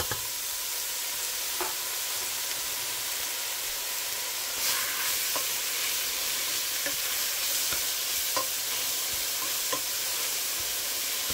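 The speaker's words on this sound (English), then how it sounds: "Heat some olive oil in a pot and add some chili flakes and swish them around like this. And immediately add your grated veggies." Chili flakes and grated vegetables sizzle loudly in olive oil in a pot, a dense continuous hiss with periodic soft scrapes and clicks as the mixture is swished around, close up and without talking.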